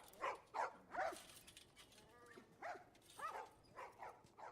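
Dogs in The Last of Us video game give a run of short barks and yelps, several close bursts early and more spaced ones later, at moderate level with a faint tonal whine in between.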